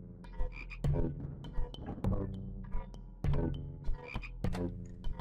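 A frog croaking in the HOUSE horror video game, loud close croaks in a steady pulsing rhythm over a low droning game soundtrack.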